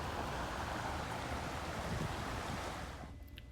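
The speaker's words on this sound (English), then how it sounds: "Just the water coming down." River water rushing steadily downstream in a broad continuous roar, close and fairly loud, dropping away abruptly near the end.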